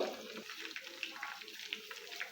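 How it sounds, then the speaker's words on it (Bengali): Chicken pieces frying in oil for chili chicken, a faint, steady crackling sizzle with small pops throughout. "আমি এক এক করে সবগুলো চিকেন উল্টে নিয়েছি এখন ভালো করে ভেজে নিব"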